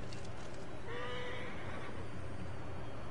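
A horse in Assassin's Creed Origins gives one clear whinny of about a second, set against a steady, noisy game ambience with no talking.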